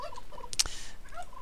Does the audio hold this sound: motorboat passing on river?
no